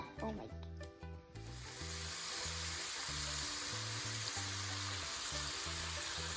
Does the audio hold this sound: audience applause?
no